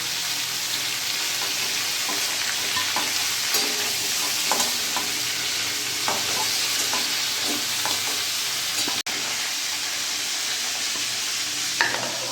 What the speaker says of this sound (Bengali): চিকেনটা আমি ফ্রাই করে নিলাম কিছুক্ষণ ধরে